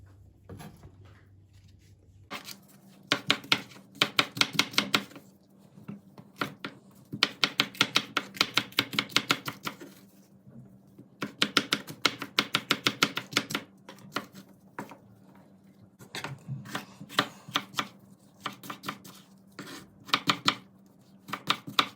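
Green peppers chopped with a knife on a board in fast bursts of rapid close taps, separated by short pauses, with no voices.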